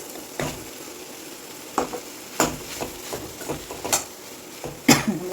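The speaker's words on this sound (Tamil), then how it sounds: "நல்லா கலந்து விட்ருவோம்" Samosa filling of masala, peas and mashed potato being stirred in a pan, a spoon scraping and clinking against the metal in irregular knocks over a faint sizzle.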